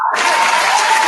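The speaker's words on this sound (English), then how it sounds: "Round of applause for Cameron making pink fresh again." A studio audience breaks into a round of applause, a dense wash of clapping that starts abruptly and stays steady and fairly loud for about a second.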